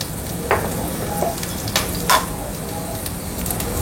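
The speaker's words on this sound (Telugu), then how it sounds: "వెల్లుల్లిపాయలు కొంచెం వేగుతున్నప్పుడు కొన్ని ఆవాలు, కొంచెం జీలకర్ర," Garlic fries in a pan with mustard and cumin seeds, giving a steady crackling sizzle with a few sharp pops and spoon scrapes standing out over the hiss.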